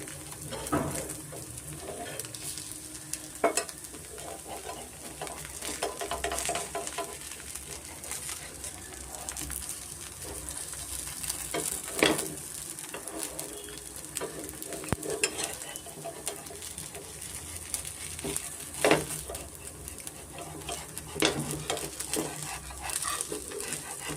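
Rava dosa roasting on a hot pan, a steady broadband sizzle running throughout with a few sharp clicks and scrapes of a spatula now and then, close and moderately loud with no talk.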